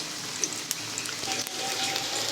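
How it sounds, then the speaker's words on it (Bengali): Cabbage pakoras deep-frying in hot oil, a steady close hiss and bubbling broken by a few sharp pops, alone without talk. "এপিট ওপিট লাল করে ভেজে নেব"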